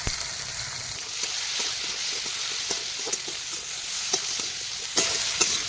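Chopped onion, garlic, green chili and ginger frying in oil in a pan, a steady close sizzle with scattered clicks and scrapes of a stirring utensil against the pan, no voices.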